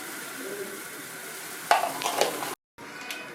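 Prawns coated in salt and turmeric sizzle in hot oil, a soft steady fry broken by a few louder stirring scrapes and spits before a short drop-out.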